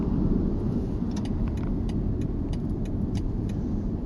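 A long convoy of military lorries passing on a road gives a steady, loud, low rumble of heavy engines and tyres, with no one speaking.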